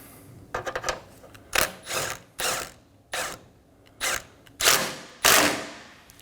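A ratchet wrench snugs down a 10mm bolt on the horn mount of a 2011 to 2027 Dodge Durango 5.7L V8, making a quick flurry of clicks followed by about six separate bursts of ratcheting, close and distinct.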